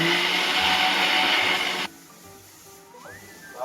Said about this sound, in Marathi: आता आपण हे बारीक करून घेऊया मिक्सर मध्ये.